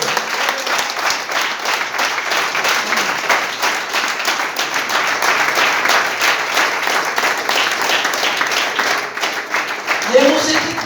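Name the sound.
congregation applauding in church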